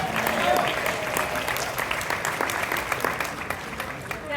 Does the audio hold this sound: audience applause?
yes